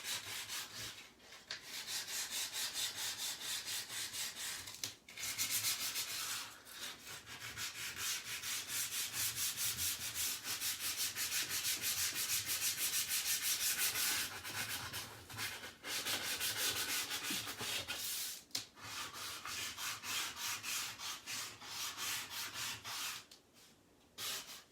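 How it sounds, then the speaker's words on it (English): Steady, continuous sandpaper rubbing on a surface, with heavier and lighter passes and brief pauses between strokes, close and fairly loud throughout with no talking. "And some areas can be heavier sanded than other areas."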